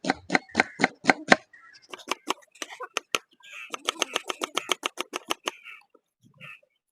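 A knife finely chopping onions on a board in a home kitchen, heard as close, sharp, rapid taps in quick bursts with short pauses between runs of strokes.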